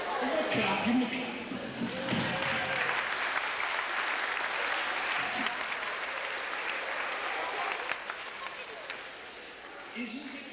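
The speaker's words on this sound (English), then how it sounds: "Give him a clap." A school assembly audience claps steadily for about ten seconds, a broad sustained wash of applause with some faint voices mixed in.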